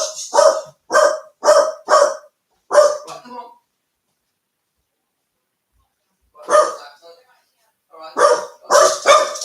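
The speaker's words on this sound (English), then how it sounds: "let me just quieten the dogs a minute" Dogs barking indoors, a close, loud run of sharp barks followed by a pause, then another burst of rapid barking, with a person speaking briefly between them.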